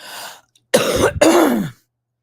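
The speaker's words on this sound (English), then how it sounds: "if I clear my throat, maybe I'll sound better." A person clears their throat twice in quick succession, loud and close, after a short breathy sound, then silence.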